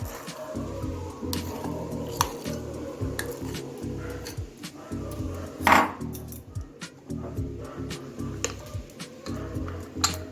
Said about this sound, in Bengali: একটা পাত্র নিয়েছি তার মধ্যে আমি তিন ধরনের ডাল দিয়ে দিচ্ছি